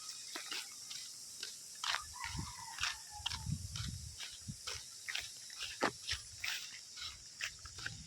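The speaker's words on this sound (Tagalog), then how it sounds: "3 aso dito guys, malalaki pa" Three large dogs move and snuffle nearby with scattered clicks, soft grunts and padding steps, faint and irregular in a quiet outdoor setting.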